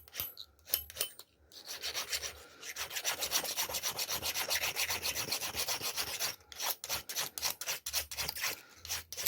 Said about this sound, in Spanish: las rayitas que quedan entre medio, que cortan el hilo, hay que pulirlas con lo gastado de la sierra.